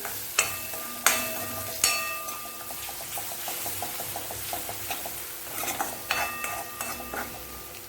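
Salt and kasuri methi are stirred in a cooking pan, with sharp metal spoon knocks against the pan and a run of scraping stir strokes over a light sizzle. No one speaks.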